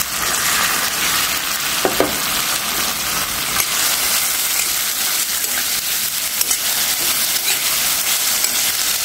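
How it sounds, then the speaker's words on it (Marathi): Barnyard millet pulav with potato sautéing in oil and ghee, a dense continuous sizzle and crackle with occasional scraping stirs, steady and close throughout. "एक मिनिटभर परतून द्यायचं आपल्याला"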